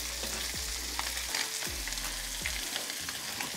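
Mangrove snapper sizzles steadily in a hot pan, a dense bright crackle that runs without a break, with faint scraping or shifting sounds every second or so underneath.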